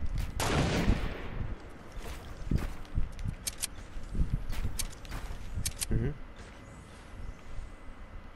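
Sniper rifle shots in a Fortnite battle royale match: several sharp, loud cracks spread across the moment, mixed with game noise and players talking over them.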